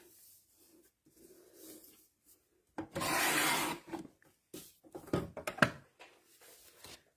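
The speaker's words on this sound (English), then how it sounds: "And this paper should be 12. And we're gonna cut it." A small photo trimmer slices a sheet of paper: a quiet rustle, then a drawn-out close scraping cut of about a second, followed by several faint scuffs and taps as the paper is handled.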